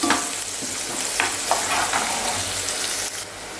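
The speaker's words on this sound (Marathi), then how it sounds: "अगदी गुलाबी रंगावरती व्यवस्थित परतून घेऊया कांदा" Chopped onion sautés in a hot pan while being stirred for an egg curry, a continuous close sizzle broken by scraping strokes of the spoon.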